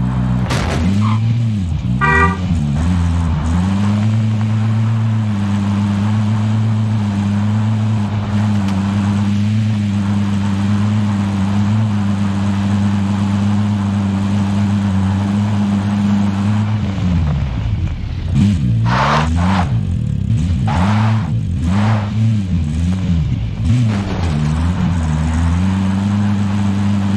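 A vehicle engine drives in Call of Duty Warzone, a loud steady drone with pitch shifting as it accelerates and slows, then rough revving and thumps toward the end.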